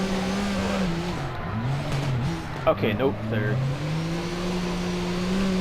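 Engine of a relatively low-horsepower car held high in revs while drifting in CarX Drift Racing Online, a steady droning whine that dips and rises with gear changes and brief tire chatter, under someone talking.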